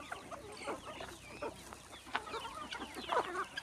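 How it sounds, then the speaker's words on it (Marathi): Free-range country chickens cluck across an open natural farm plot of about half an acre, with a busy overlapping chorus of clucks and calls at moderate distance. "हे आपलं मुक्त संचार गावर आणि कोंबडी पालन आहे"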